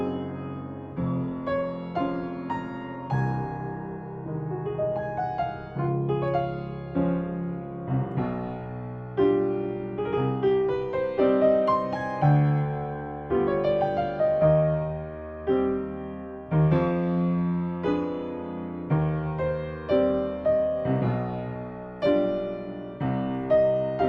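Solo piano plays a phrase from Chopin's Nocturne Op.48 No.1 at a steady, deliberate pace, with full chords and a singing melody line, close and clear, with no talking.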